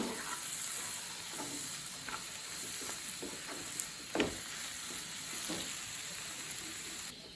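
Onion mixture with chili powder for egg kottu sautés in a pan under a steady sizzle and hiss, with occasional scrapes and clinks of stirring, fairly close and alone.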